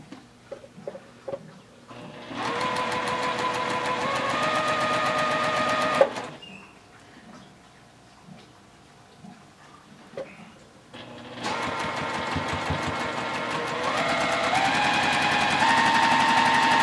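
Sewing machine stitching a pinwheel quilt block, running in two long steady bursts of rapid stitching separated by a quieter pause with light handling sounds, near and alone.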